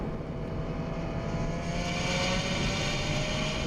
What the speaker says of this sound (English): There's some induction noise, some whistle, some personality to this engine.